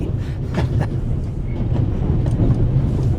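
Steady low rumble of a train rolling on rails in The Raven Remastered video game, a continuous close drone with faint rhythmic clatter and no speech.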